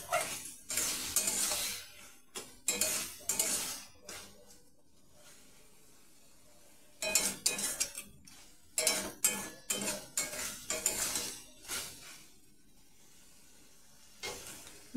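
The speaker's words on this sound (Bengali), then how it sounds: "দেখতে পাচ্ছি এখানে ভালো করে কষানো হচ্ছে" A metal spoon stirs and scrapes a pan of mustard-based curry as it sautés, giving clattering, irregular bursts of clinks with a faint sizzle beneath and short quiet gaps between strokes.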